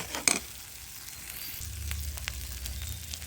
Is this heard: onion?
yes